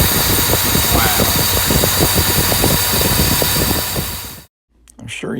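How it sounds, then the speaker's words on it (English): A Mercedes-Benz 380SL engine idling fast at about 1500 RPM, a loud steady mechanical drone with rhythmic low pulses that cuts off abruptly near the end, followed by faint voices. "the Benz is running good, but it's idling at 1500 RPM, which is wrong"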